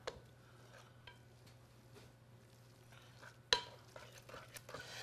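Potato latke batter stirred in a bowl, soft wet scraping and faint clinks of a utensil, quiet and close, with one sharper knock partway through over a low hum.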